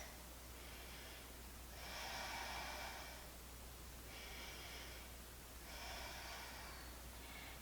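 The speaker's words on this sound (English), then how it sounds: "we're going to take a few deep breaths here" Slow deep breaths during a gentle yoga stretch and balance class, several long airy inhales and exhales in an even rhythm, soft and close with no talking.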